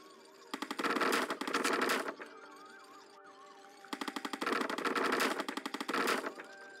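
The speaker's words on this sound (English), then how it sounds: "maneuver the ship and the turret attacks the target" Rapid automatic turret fire from a ship in the Zombie Rollerz game comes in two loud sustained bursts separated by a quieter gap of game music and effects, with no talking.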